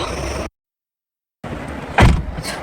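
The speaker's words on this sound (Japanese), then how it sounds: "ドアの閉まりがいいですね" Toyota Camry WS car door shutting with a single solid thud after a brief silence, close and loud, followed by faint cabin rustle.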